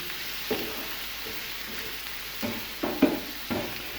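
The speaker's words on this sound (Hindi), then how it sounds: "मिक्स करेंगे अच्छी तरह से और इसको फ्राई करेंगे 1 से 2 मिनट के लिए" Butter garlic chicken mixture frying in a pan over medium flame, a steady soft sizzle with a few sharper scraping stirs of a spoon against the pan, close and moderately quiet.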